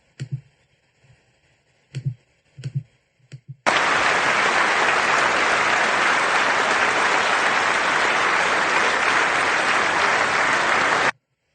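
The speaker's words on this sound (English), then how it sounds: "A few of them did actually clap for this, I guess." An audience at a State of the Union address breaks into loud, sustained applause lasting several seconds, following a few faint scattered sounds, then stops abruptly.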